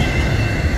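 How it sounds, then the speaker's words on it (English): Westbound double-stack freight train rolling past on the Kansas Sub at Loring, Kansas, a loud, close, continuous rumble of cars with steady rail noise. "stack train."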